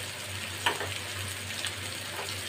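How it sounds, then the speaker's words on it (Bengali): Onion frying in a pan for dal tadka, a soft steady sizzle with a low hum beneath and a couple of light stirring clicks. "পেঁয়াজটাকে ভালো করে আমি লাল করে একটু ভেজে নেব।"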